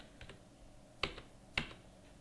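Keystrokes on a computer keyboard while an invoice number is entered in accounting software: a few light taps, then two sharper, louder clicks about half a second apart, close and without speech.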